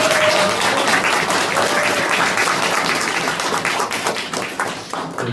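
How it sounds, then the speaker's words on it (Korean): An audience at a seminar applauds a professor with loud, dense clapping that holds steady and then tapers slightly near the end, with no talking over it. "유석준 교수님께 박수 한번"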